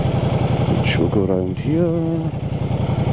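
A touring motorcycle idles in a car park, a loud, steady throbbing engine rumble throughout while someone talks close over it.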